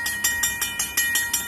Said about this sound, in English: if you see a crossing with no gates, you hear a bell, where it would be a mechanical bell like this